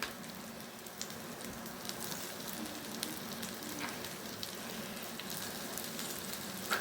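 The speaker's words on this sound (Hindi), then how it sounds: "जल्दी जल्दी से बच्चों के लिए फ्राई करते हैं" Okra (bhindi) fries in oil on a tawa with a steady, even sizzle and soft crackle, holding at a moderate level throughout with no talking.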